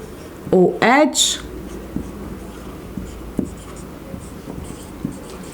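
Chalk or marker strokes on a board while a nucleic acid structure with a phosphate group is drawn, giving light, scattered scratchy taps after a brief burst of speech.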